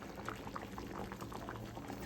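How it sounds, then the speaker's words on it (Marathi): Thick sambar bubbling at a steady boil in a pot, with continuous soft blips and pops close by. "आपल्या सांबारला आता छान अशी उकळी फुटलेली आहे"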